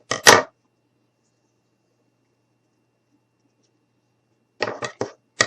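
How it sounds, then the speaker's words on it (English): Scissors cutting through felt, a short crisp snip at the start and a quick series of snips near the end, close and dry, with silence between. "grab my scissors, cut that off"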